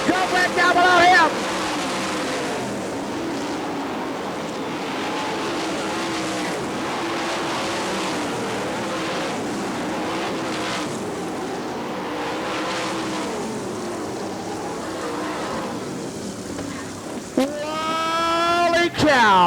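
Sprint cars racing at Gibsonton in an All Star Circuit of Champions Winternationals event, a dense sustained engine roar with a crowd and announcer talking over it, and a sharper whining engine pass near the end.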